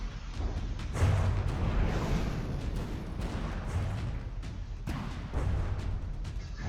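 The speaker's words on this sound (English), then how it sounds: "Mammoth tank being circled by the Confessor, but it's just continuing to put shells into the Confessor" Cannon shells pound from a Mammoth tank in a video game as it fires on the Confessor, a steady barrage of heavy booms and rumbling impacts with several louder blasts over a continuous roar of battle.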